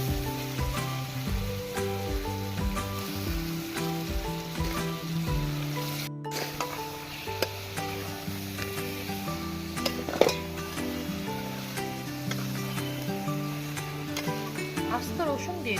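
Goat meat with chili, turmeric, coriander and salt frying in a pot over a wood-fired stove, a steady sizzle with stirring clatter beneath a melodic background tone and a brief dropout.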